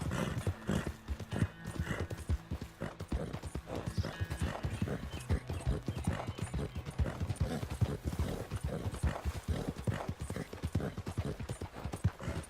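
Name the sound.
horse hooves clip-clopping and neighing in Red Dead Redemption 2 video game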